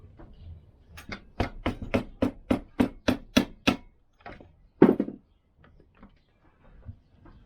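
A small hammer knocks a lever into a Lambretta scooter engine during a rebuild: a dozen quick, sharp taps in a steady rhythm, then a pause and one louder strike, followed by faint handling sounds.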